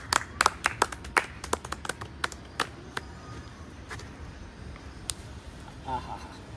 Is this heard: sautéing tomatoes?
no